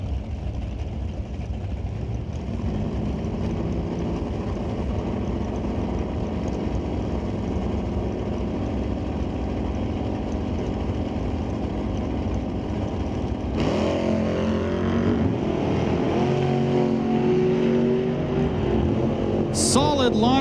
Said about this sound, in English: Solid launch for both the cars